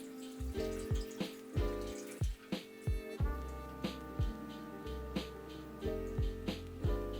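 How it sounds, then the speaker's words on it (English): Water drips steadily during coral drip acclimation, each drop a sharp, close plink into water in a fairly regular rhythm, over a soft background hum. "I'm just kind of doing a little bit of drip acclimation here"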